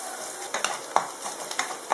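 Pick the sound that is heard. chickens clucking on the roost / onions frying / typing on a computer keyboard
onions frying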